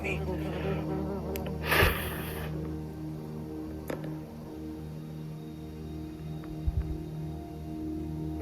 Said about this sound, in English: There's bees trying to land on me and hopefully not sting me.